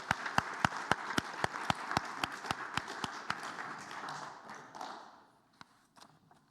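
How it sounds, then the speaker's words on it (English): An audience at a live talk gives a round of applause, heard as a faint crowd wash with a steady run of distinct, sharp nearby claps that fades out after about five seconds, leaving a few stray claps. "Another big round of applause."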